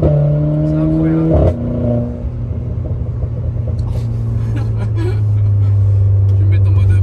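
Car doing a launch control start, a loud deep engine rumble that drops briefly then builds into sustained hard acceleration, with excited people talking over it inside the cabin.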